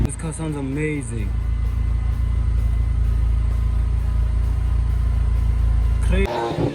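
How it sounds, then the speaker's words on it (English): A restored Ford car's engine runs steadily with a low, constant rumble for several seconds, with a person talking briefly over it at the start. "This car sounds amazing."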